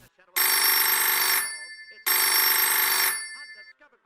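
A telephone rings in two long, loud electronic bursts separated by a short pause, the bright tone filling the room with nothing else heard.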